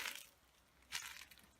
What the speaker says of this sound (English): There's like broken glass.